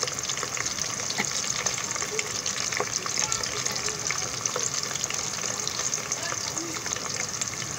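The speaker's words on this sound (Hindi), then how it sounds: "अब प्याज को चम्मच लेकर आओ, ब्राउन करो।" Chopped onions fry in oil for a chicken biryani while a rice spoon stirs them until brown, giving a steady, close, continuous sizzle with scattered scraping ticks throughout.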